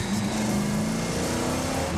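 A muscle car engine revs loud and close, a dense, roaring growl that holds steady and fills the whole stretch.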